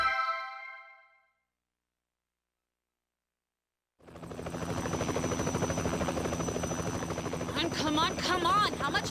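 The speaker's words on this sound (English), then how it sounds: "I've never flown a chopper to Mexico." A helicopter flies in the video game Trauma Team, its rotor drone loud and steady after a brief chime and a few seconds of silence, with faint electronic tones on top.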